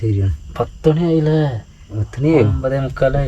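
A steady high insect trill runs continuously beneath someone talking up close at night at a forest riverside camp, with frogs in the forest soundscape.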